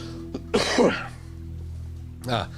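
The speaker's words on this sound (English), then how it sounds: "do pardon me if I cough" Two short coughs, one early and another near the end, close to the mic, with a low steady hum underneath.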